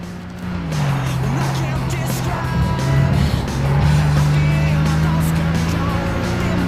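A race car in Gran Turismo 6 holds a steady, droning engine note with a brief pitch dip early on, plus tyre noise and some rougher scrubbing midway, continuous and close throughout.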